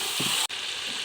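Sugar being stirred into hot food in a frying pan while cooking in a Bengali home kitchen, a steady close sizzle with a brief scrape of stirring and a momentary gap, no talking.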